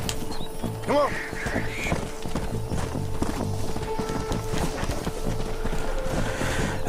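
Rhythmic clip-clop of horse hooves in the video game Red Dead Redemption, steady and close, with a brief whinny early on and ambient game sounds beneath.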